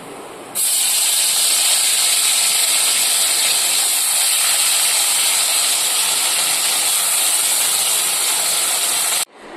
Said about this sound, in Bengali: সবগুলো মাছ আমি এইভাবে ভেজে নেব।